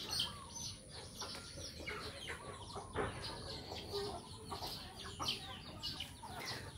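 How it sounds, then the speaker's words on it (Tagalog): Many chickens clucking in a backyard in the countryside, a quiet, continuous chorus of overlapping clucks and short calls with occasional louder bursts, heard alone. "Ang dami namin manok guys."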